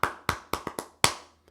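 One person claps quickly and sharply, several distinct close claps in an uneven burst that ends with a softer final tap.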